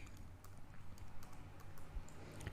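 Soft typing on a computer keyboard while a spreadsheet entry is filled in: a quiet, irregular patter of light key clicks over faint background hum.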